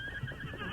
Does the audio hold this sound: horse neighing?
yes